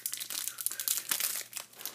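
A Pokémon card booster pack's foil wrapper is crinkled and torn while being opened, a close, continuous rustle with sharp crackles.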